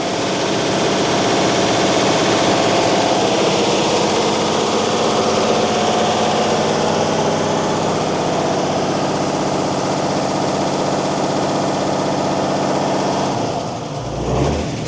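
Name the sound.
Mercedes-Benz 911 4WD truck engine idling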